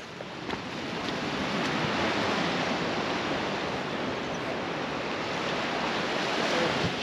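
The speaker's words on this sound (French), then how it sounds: "Petit spot au bord de la mer." Seaside surf washes in a steady, continuous roar, close and fairly loud, with a touch of wind and no voices.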